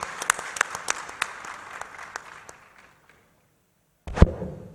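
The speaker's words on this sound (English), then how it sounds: "Please give a round of applause to Excellency Odinga" Scattered audience applause for Excellency Odinga at a strategic industry and economic diplomacy panel, individual claps thinning out and fading to near silence before a single loud thump near the end.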